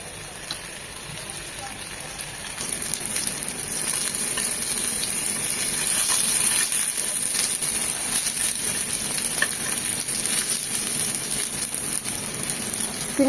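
Sliced tomatoes frying in mustard oil in a pan, a loud, dense, continuous sizzle that swells after a quieter start and holds steady, with a few faint scraping stirs.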